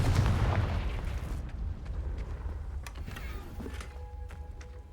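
A fire spell blast in Hogwarts Legacy near a crumbling tower, a loud booming explosion that hits at once and then fades into rumbling debris with scattered crackles.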